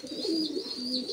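Pigeons coo steadily in a loft, low throaty rolling calls close by with a faint high background hiss.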